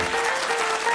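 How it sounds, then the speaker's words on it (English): A game show studio audience applauding steadily, dense clapping filling the whole moment without pause. "Give them a round of applause."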